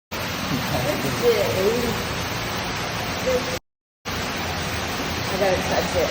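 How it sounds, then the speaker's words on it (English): A waterfall inside a cave, Petty Johns, roars as a steady, close broadband rush that drowns everything else, with faint voices underneath and a short break in the middle. "We found the waterfall."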